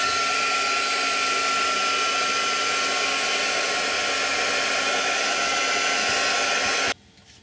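A heat tool blows hot air to dry paint on a handmade gel-plate Christmas card, a loud, steady whirring drone with a faint whine that runs close and unbroken for about seven seconds before cutting off abruptly.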